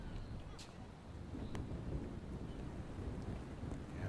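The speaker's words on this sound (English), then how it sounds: "Yeah, boy, that wind is really picking up, the rain." Wind buffets the microphone and rain falls steadily at an outdoor girls' junior varsity lacrosse game, a low, rumbling, continuous roar with a few faint higher clicks.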